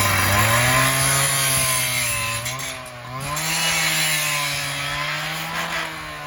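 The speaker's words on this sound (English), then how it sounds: "Just cutting off the bottoms of the ones that were all rusted out" A power tool cuts through the rusted-out bottoms of temporary metal fence panels, a loud, steady whining drone held close by that dips briefly in pitch midway and then resumes, with no talking.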